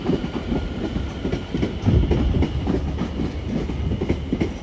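A London Overground train on the Watford Junction to Euston service rumbles steadily through Harrow and Wealdstone station, close and loud, with a continuous low roar and rhythmic clickety-clack from the wheels over the rails.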